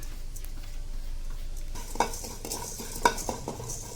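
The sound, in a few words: coriander seeds and cumin frying in a pan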